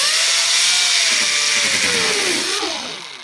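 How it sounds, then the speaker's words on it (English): An angle grinder whines against a sapphire crystal watch face in one loud, close burst, with a falling pitch as it bites, then fades at the end. "Got a grinder here, and let's see what this does."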